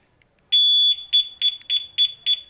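Two-way motorcycle alarm fitted to a Honda Mio i 125 sounding its sensitivity beeps: one long high beep, then a series of shorter, evenly spaced electronic beeps, loud and close with no talk.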